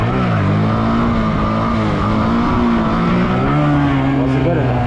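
A motorcycle engine held at steady high revs while the rider balances the bike on its rear wheel in a wheelie, the loud, close drone rising and dipping slightly with throttle throughout.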